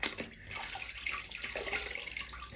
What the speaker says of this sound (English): I'm just going to put it back in the water, give it a rinse out